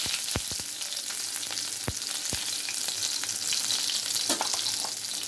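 Mustard seeds, cumin and halved green chili fry in hot oil in a kadhai, a close, steady sizzle punctuated by sharp pops and crackles from the bursting seeds.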